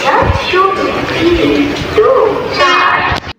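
A train between Eluru and Vijayawada rumbles along steadily in the rain with a horn-like tone sounding near the end, while voices are heard over the noise.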